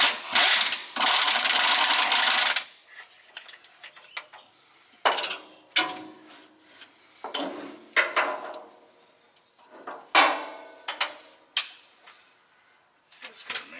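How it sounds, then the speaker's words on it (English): Transmission bolts being removed from a Freightliner Cascadia truck with a ratchet; a loud burst of rapid ratcheting opens, followed by scattered clicks, clanks and short ratchet strokes at varying loudness. "All we gotta do is just pull the bolts now,"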